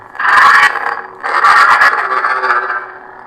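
A loud, buzzy Kylo Ren lightsaber sound-font hum with two sweeping swells, the first short and the second longer, fading out at the end.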